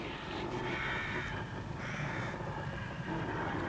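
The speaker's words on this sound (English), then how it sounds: "I hear the crows of war." Crows cawing in the horror video game The Evil Within, a steady wash of harsh calls over constant ambient background noise, moderately loud with no talk.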